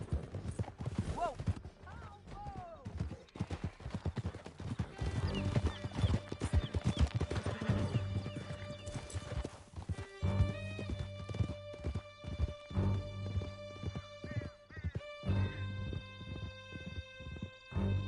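Horses gallop in Red Dead Redemption 2 with rapid clip-clopping hooves and an occasional whinny. Loud voices shout and talk over the hoofbeats, and music with sustained tones builds in the second half.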